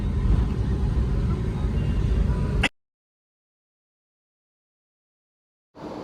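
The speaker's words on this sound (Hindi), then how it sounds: "और हम जा रहे हैं गाड़ी पार्क करने और हम दे देंगे गाड़ी वैलेट पे।" A car drives toward valet parking at a mall, a steady close engine and road rumble running for a few seconds before cutting abruptly to silence, then briefly resuming.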